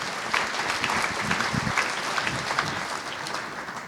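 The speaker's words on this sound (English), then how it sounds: "give our vetting team one more big round of applause for all their work?" Audience at an evening gala breaks into steady, sustained applause, dense clapping from a full room holding at an even level for several seconds with no talk over it.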